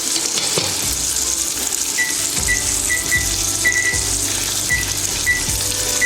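A steak sizzles in a frying pan with a loud, constant close crackle, while a short high beep repeats at irregular intervals over the frying.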